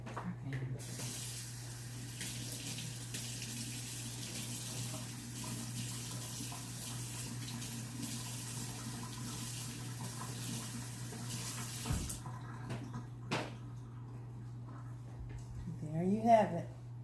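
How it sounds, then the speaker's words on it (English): Warm tap water sprays and splashes while stainless steel cookware is rinsed under it, a steady hissing flow lasting about twelve seconds before stopping, followed by a few clinks and a low background hum. "Okay, I'm getting ready to rinse this in warm water."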